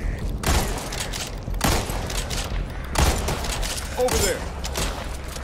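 Gunfire in the Back 4 Blood video game: loud, close bursts of shots come in several spaced volleys, each with a booming crack, while someone speaks briefly between them.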